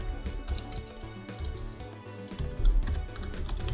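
Rapid tapping on a computer keyboard, a close cluster of uneven clicks with short pauses and a busier burst near the end.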